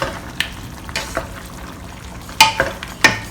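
Potatoes and minced pork stirred in a frying pan, giving quiet sizzling under a series of sharp scraping knocks from the utensil, spaced irregularly and a little louder near the end.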